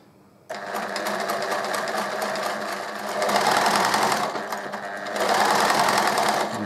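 Domestic sewing machine top-stitching a centred zip, a steady close whirring run that starts abruptly and speeds up twice, with no talk over it.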